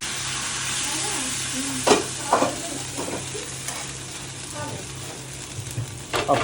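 Dosa batter with rice and onion spread on a hot pan sizzles steadily, with several scraping stirs, nearby and with no one speaking.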